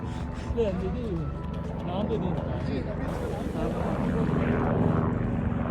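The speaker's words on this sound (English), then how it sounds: "You will see choppers like these all along the trail, carrying people and goods across the trail." A helicopter flies along the Everest Base Camp trail in the Nepal Himalaya, its steady engine and rotor drone continuous throughout, with voices talking over it.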